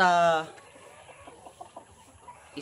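A rooster gives one loud, harmonic cluck-like call at the very start, followed by faint scattered background noises.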